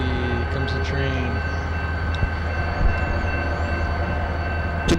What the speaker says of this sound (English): Yay, here comes the train.